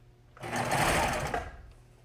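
A sewing machine stitches jersey fabric in one short, close, steady whirring burst that rises and fades within about a second and a half.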